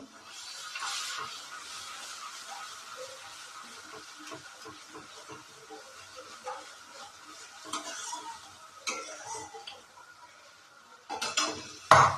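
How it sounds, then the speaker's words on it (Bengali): Spice masala being stirred and fried in a pan, with soft scraping and faint sizzling at a quiet level, sharper utensil clinks toward the end. "তো এই মশলাটা খুব করে কষিয়ে নেবো"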